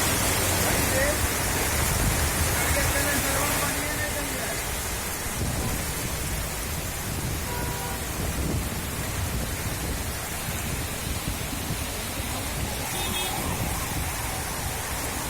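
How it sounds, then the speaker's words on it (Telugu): Heavy rain pours down in Hyderabad in a dense, constant roar, loud and unbroken throughout the clip. "హైదరాబాద్ లో కుండపోత వర్షం కురుస్తోంది"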